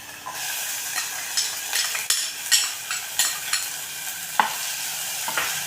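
Tomato and onion fry in a pan with a busy sizzle while a spoon stirs and scrapes against the metal in frequent close clinks, with no talking.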